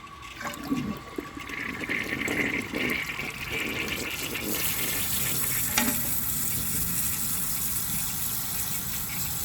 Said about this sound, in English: I'm just going to empty the rest of the tank out and see if it can pass it.